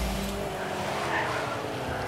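A car drives in the Rocket League video game, its engine giving a steady rushing drone with a hint of tire noise, continuous and fairly close, without voices over it.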